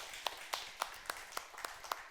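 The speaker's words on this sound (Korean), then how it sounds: "박수 한번 쳐주세요." A church congregation claps in a steady, even rhythm, with about eight crisp claps spaced evenly over a couple of seconds at moderate volume.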